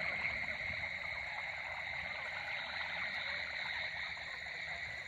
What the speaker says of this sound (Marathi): रात्री बेडकांचा आवाज नुसता बघा किती येतो